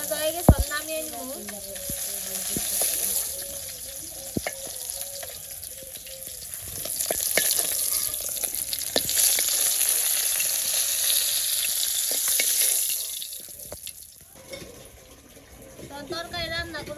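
Fish frying in oil, a steady loud sizzle with crackling bursts that runs throughout before dropping away near the end, in a village kitchen setting.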